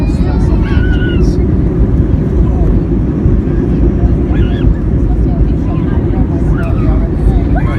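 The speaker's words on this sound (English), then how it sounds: "That's the reverse thrust of engines." Airliner engines roaring in reverse thrust just after landing at Cairns, a loud, steady broadband rush heard from inside the cabin, with brief voices over the top.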